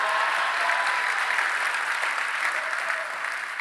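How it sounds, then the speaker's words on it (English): An audience at a keynote event gives a round of applause, a dense, even wash of clapping from a large crowd that holds steady and begins to thin near the end. "Let's give them a round of applause."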